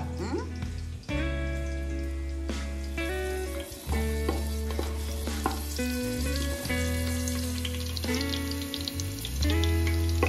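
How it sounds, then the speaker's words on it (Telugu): Sliced onions for a mutton curry fry in a pan with a bright, constant sizzle. Loud melodic music or singing runs over the whole stretch and partly buries the frying. "ఇవి ఫస్ట్ ఇప్పుడు ఫ్రై చేయడానికి వేస్తాను."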